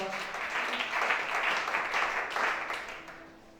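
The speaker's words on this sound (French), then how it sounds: "Acclamez chacun." A church congregation breaks into sustained applause during a worship service in Gabon, a dense wash of clapping that holds steady for a few seconds before easing off.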